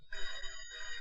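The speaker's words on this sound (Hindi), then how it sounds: "चलो फोन उठाओ" A telephone rings in a hotel room in a Bollywood film scene, two bright trilling bursts of ringing, fairly faint, with no talk over it.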